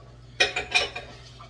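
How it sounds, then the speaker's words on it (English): A spatula stirs custard base in a nonstick pan, giving a few clinking scrapes close by in a short burst. "So, stirring this up."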